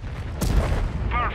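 A tank cannon fires in World of Tanks, one sharp booming shot in mid-distance with a short rumbling tail, followed by a brief synthesized voice cue.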